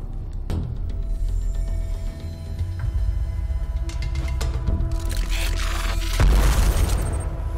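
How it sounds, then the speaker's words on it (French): A thrown grenade goes off in the VR shooter Apex Construct, a loud low boom near the end rising over a steady game background, with smaller cracks and clatter earlier and no talking. "Attends, je peux leur lancer une grenade."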